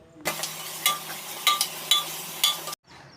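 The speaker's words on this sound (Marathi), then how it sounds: "आता हे अद्रक लसूण पण एकदम व्यवस्थित फ्राय करून घेणार आहे" Ginger garlic paste frying in a pan with onion and tomato, a steady close sizzle with periodic louder scraping stirs, cutting off abruptly near the end.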